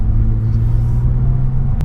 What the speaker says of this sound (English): little bit of rev matching, never hurt anyone.